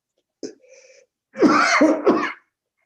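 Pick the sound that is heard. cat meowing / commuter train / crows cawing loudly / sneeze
sneeze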